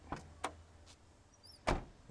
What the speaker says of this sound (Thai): ดูการปิดประตู นะครับ